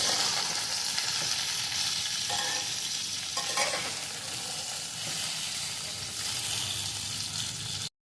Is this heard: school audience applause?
no